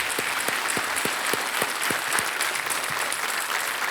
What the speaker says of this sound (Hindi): एक बार फिर तालियों के साथ